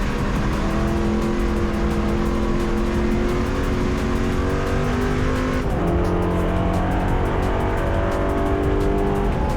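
A 60-year-old Mustang race car engine roars loudly and continuously through a race, with harmonic tones rising and falling as the car shifts and accelerates, a clear shift in pitch partway through, no talking.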